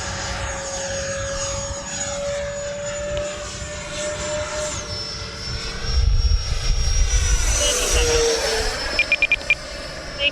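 A Freewing F-22 90mm RC jet plane flies overhead with a loud, steady ducted-fan whine that rises and falls in pitch, swells as it passes close, then fades, with wind rumble underneath.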